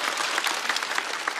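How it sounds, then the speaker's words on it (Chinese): Studio audience at a stand-up comedy show applauding a comedian, a short burst of dense, steady clapping, moderately loud and close, with no voices over it. "再次掌声送给 Kid，"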